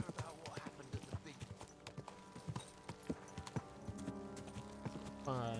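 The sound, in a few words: horse hooves clip-clopping while riding in video game Kingdom Come: Deliverance 2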